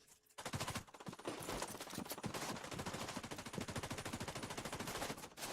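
Gunfire in The Division 2 as a player unloads on an enemy with a corrosive shell: a long, rapid stream of automatic shots, loud and rhythmic, starting after a short pause.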